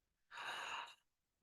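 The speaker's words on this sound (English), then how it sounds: "Exhaling." A single soft, breathy exhale during guided meditation, lasting under a second and heard alone in a quiet room.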